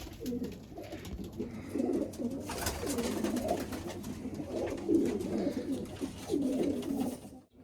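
Pigeons in a racing pigeon loft coo softly and repeatedly, low rounded calls rising and falling in a loose rhythm at close range against a quiet background.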